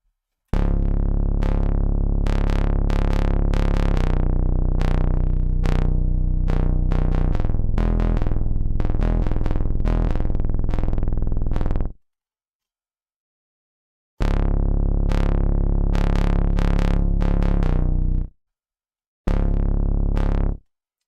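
A synthesizer preset sounds a rapid arpeggiated pattern of bright, plucky repeated notes, loud and steady for about twelve seconds, then stopping, resuming after a pause, and returning briefly once more near the end.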